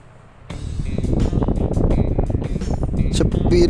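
A Miyako wall fan switched on at its lowest speed setting, starting with a sudden jump into a steady, close-up broadband whoosh of moving air that holds level to the end, with small clicks and rattles on top.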